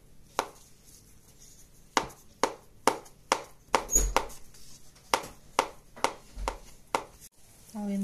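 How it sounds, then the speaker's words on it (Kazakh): A knife chops boiled potatoes into small cubes on a board for vinegret salad, giving sharp, evenly spaced thuds, about a dozen in a steady rhythm, close and clear with no talking. "Ал енді картопымды турап алдым."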